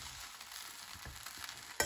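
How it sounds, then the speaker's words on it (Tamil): Fried rice tossed with pepper powder in a hot pan, a faint continuous sizzle with soft stirring scrapes and a small clatter at the end. "ஃபைனலாக பெப்பர் பவுடர் மிக்ஸ் பண்ணிவிட்டு நம்ம ஸ்டவ் ஆஃப் பண்ணிடலாம்."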